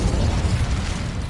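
Incendio fire spell from Hogwarts Legacy: a dense, roaring burst of flame with crackling, rumbling low end, loud and continuous for just over a second.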